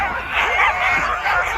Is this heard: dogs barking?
yes